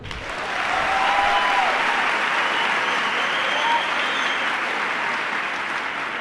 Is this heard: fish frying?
no